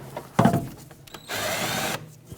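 Power drill backing out 8mm bolts from a hood hinge on a 1998-2011 Ford Ranger, with a sharp initial bite, short whirring bursts and a sustained high-pitched spin that cuts off abruptly, fairly close.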